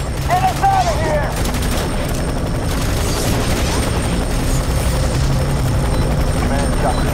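Helicopter rotor thrum rumbling steadily under bursts of gunfire and distant booms in the F.E.A.R. 3 shooter game, loud and continuous, with voices talking over it.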